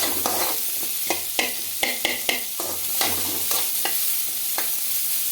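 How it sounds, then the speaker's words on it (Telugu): Garlic and onions frying in oil for toor dal chutney, a steady sizzle with repeated sharp scraping and stirring strokes of a utensil in the pan, close and alone without talk. "బాగా గోల్డెన్ కలర్ వచ్చే వరకు ఫ్రై చేసుకోవాలండి"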